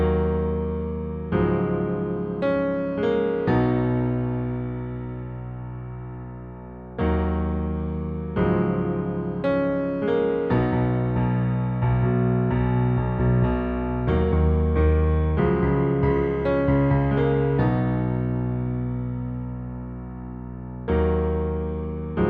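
Solo piano plays the intro of a song, sustained chords with a steady pulse and short pauses between phrases, close and clear with no voices.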